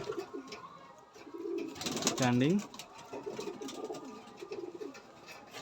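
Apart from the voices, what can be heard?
pigeons cooing in a Madrasi pigeon loft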